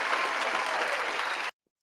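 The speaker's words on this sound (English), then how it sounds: "We got to get an applause for that." Canned applause effect dropped into a finance news commentary: a steady burst of dense clapping that cuts off abruptly after about a second and a half, leaving silence.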